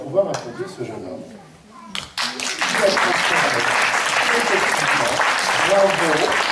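An audience at a live show applauds, starting with scattered claps and rising after a brief pause into a full, steady burst of clapping, with voices mixed in.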